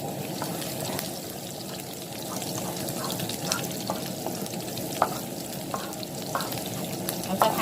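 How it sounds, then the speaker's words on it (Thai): Garlic stir-fries in a hot pan, a steady close sizzle with scattered light clicks and scrapes from stirring throughout. "ใส่กระเทียมลงไปผัดก่อนนะคะ"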